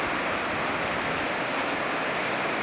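Heavy rain pours steadily in Ernakulam, a dense, even broadband hiss that stays loud and unbroken throughout with no talk.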